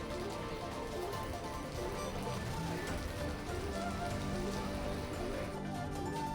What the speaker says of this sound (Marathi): पुण्यात सोसाट्याच्या वाऱ्यासह मुसळधार पाऊस कोसळतो।